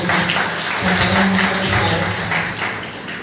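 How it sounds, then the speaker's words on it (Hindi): Loud, dense audience applause at a 2025 book launch and honors ceremony of a literary and cultural forum, continuous clapping with a voice faintly underneath. "विश्वजीत जी के लिए जोरदार तालियां"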